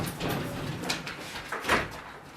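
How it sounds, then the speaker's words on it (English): A door being pulled shut indoors, a couple of soft sliding knocks and a final thud close by, over light background noise. "I'm closing that door."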